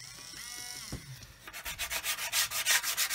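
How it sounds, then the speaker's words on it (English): Sanding on steel parts of a Tamiya 1/16 RC Sherman model, a quiet scrape at first, then a steady run of about a dozen rhythmic rasping strokes, close up. "And then when you sand that,"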